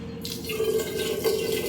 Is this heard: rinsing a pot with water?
yes